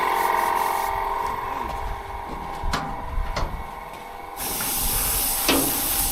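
An air compressor on a farm blows air in a steady hiss with a few short clicks and knocks, then lets out a louder, sharper rush of air near the end.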